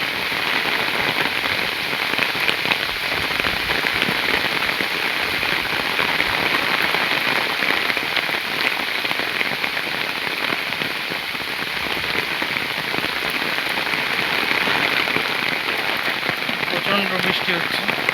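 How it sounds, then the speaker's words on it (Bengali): Heavy monsoon rain pours down on a village road lined with bamboo clumps, a dense, loud, steady patter and drumming close by that carries on unbroken for the whole stretch. "প্রচণ্ড বৃষ্টি হচ্ছে।"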